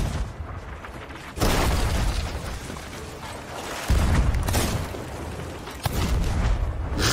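Ship cannons firing in the video game Sea of Thieves: three heavy booming blasts spaced a couple of seconds apart, each trailing into loud rumbling noise, with no speech.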